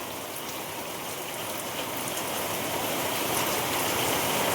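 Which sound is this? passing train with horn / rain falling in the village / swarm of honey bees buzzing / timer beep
rain falling in the village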